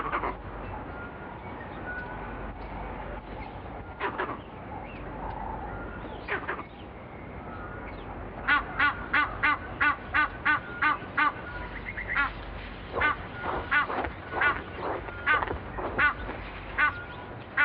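Egyptian geese honking around old abandoned nests in Africa, loud repeated calls in rhythmic bursts that grow more frequent partway through, standing clear over a soft outdoor background.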